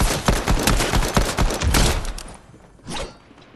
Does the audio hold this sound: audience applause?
no